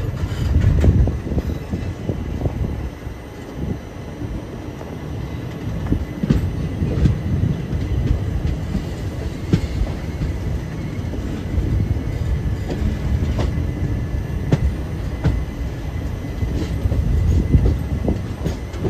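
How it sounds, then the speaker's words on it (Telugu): The Prasanthi Nilayam Express rolls from a side track onto the main line near Yelahanka, with a steady close rumble of wheels on rail and intermittent clicks and clacks heard from inside the coach. "మన ట్రైన్ ఇప్పుడు లోపల నుంచి మెయిన్ లైన్కి ఎంటర్ అవుతుందండి."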